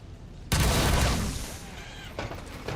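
A sudden loud gunshot blast in the tactical game XCOM 2 erupts after a brief quiet lead-in, then decays with a rumbling tail and a smaller follow-up crack near the end.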